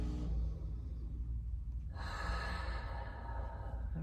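Slow, deep breaths taken close up while pressing into a tender spot in the pec major during a self trigger point release: a long airy exhale, then another full breath, with no speech.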